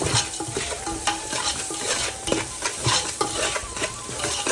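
Cashews, raisins and onions fry in ghee for ghee rice, a steady dense sizzle with repeated stirring scrapes and light utensil clinks throughout, close and fairly loud, no talking.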